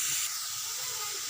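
Coriander leaves with salt and turmeric frying in oil make a continuous close hiss, loudest at the start and then easing slightly into a steady sizzle.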